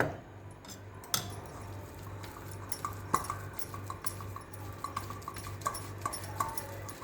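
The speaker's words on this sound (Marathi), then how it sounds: "आता आपण पुरण चाळणीने बारीक करून घेऊ" Hot cooked puran lentil filling is pressed through a metal sieve, giving soft, irregular scraping, squishing and light metallic clinks. It is quiet and close, over a faint steady low hum.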